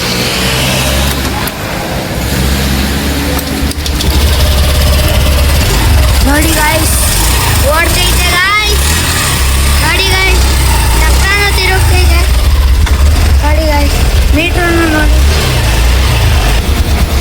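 Honda Activa scooter running after repair work on its CKP sensor, a steady low engine hum throughout, largely under close talking.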